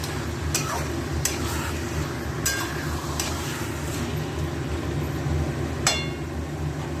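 Meat and potatoes being stirred in a cooking pot over a gas flame, a steady low bubbling bed under a few sharp metallic clinks and scrapes scattered through the clip.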